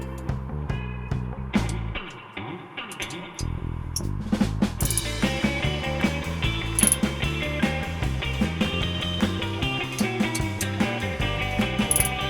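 A ratchet clicks in rapid bursts while tightening the main bearing caps onto the crankshaft journals of a Suzuki GS500 motorcycle engine being rebuilt in a shed, close and loud with metallic knocks between strokes, no voices.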